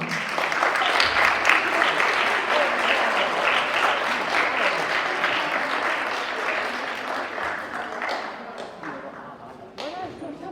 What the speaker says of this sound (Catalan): Per favor, un fort aplaudiment